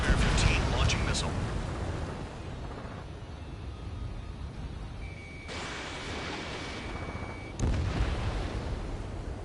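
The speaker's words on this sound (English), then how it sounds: "Spare 15 launching missile." A missile launches in the combat flight game Ace Combat 7: a burst of rumbling blast noise, then a sustained roar and a second loud surge, with radio chatter over it.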